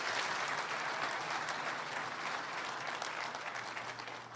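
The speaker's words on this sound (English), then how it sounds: "Can we get another round of applause for all of our speakers today?" Sustained applause from an audience at an outdoor groundbreaking ceremony for an electric carmaker's plant in Chatham County, a dense steady clapping that fades slightly toward the end, with no voices over it.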